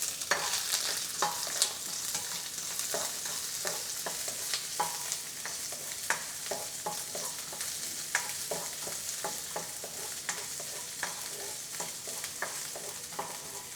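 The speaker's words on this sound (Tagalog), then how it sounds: "Kapag mainit na ang kawali at ang mantika, ilagay na natin ang ginger." Ginger frying in hot oil in a pan for chicken curry, a continuous bright sizzle with frequent sharp pops and spatters throughout, close and steady, no talking.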